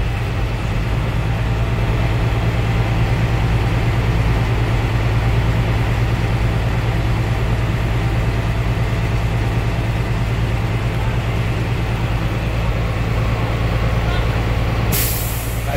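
A Class B bus engine runs steadily and close during an air brake test, a constant loud low drone as it is lightly revved to build air pressure, ending with a brief sharp hiss of air.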